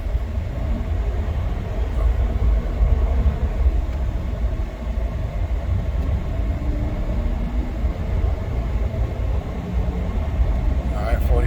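Steady low rumble and road noise inside a 2014 Ford F-150 with a bad motor as it pulls away, a dull continuous drone throughout with no clear rise in engine pitch.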